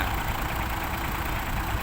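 A ten-wheel sugarcane truck stuck deep in mud and a tractor pushing against its front bumper run their engines together, giving a steady, dense, low rumbling drone that holds even and close.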